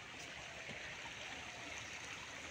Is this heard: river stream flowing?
yes